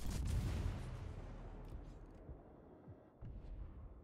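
Heavy naval guns from the Dutch Royal Navy cruiser Celebes firing in World of Warships: a loud, deep boom at the start that rolls off into a long rumbling decay, with a fainter thud near the end.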